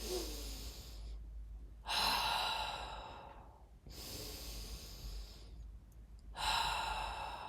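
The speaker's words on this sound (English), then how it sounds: "So when I'm deep breathing," A person demonstrates deep breathing with three long audible breaths, each a slow airy inhale and sighing exhale, close and clear with no talk.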